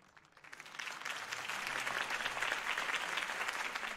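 Crowd applause following Harvey Dent's campaign speech in Batman: The Telltale Series, swelling quickly from quiet into a dense, sustained roar of clapping that holds steady to the end.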